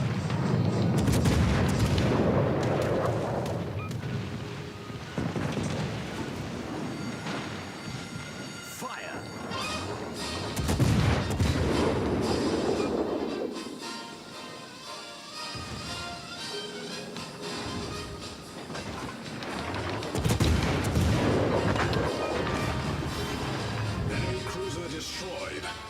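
Heavy naval gunfire from a warship firing armor-piercing shells in World of Warships: Legends, booming in several loud rolling salvos spaced across the stretch, with a voice talking over parts of it.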